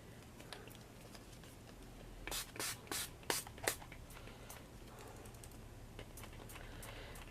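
Aerosol spray coating being applied to Halloween pumpkin craft pieces: several short, fairly loud hissing bursts clustered together, separated by brief pauses, over a quiet room background.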